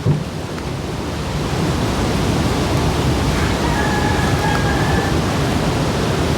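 Sea waves roll and surge in a steady, loud broadband roar with no breaks, heard close from the shore.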